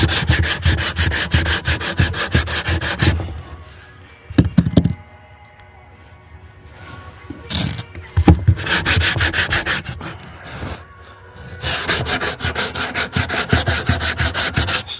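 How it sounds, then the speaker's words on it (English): Wood is sanded by hand during restoration of a Marine Trader double-ender trawler boat. Loud rhythmic rubbing strokes come in bursts, with quieter pauses and a couple of sharp knocks between them. "Still sanding."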